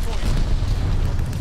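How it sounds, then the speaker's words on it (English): A glide bomb explodes in the Call of Duty Vanguard video game, a loud, sustained booming rumble with crackling debris filling the whole short moment. "Enemy glide bomb incoming."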